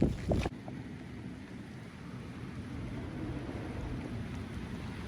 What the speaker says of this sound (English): The wind is incredible.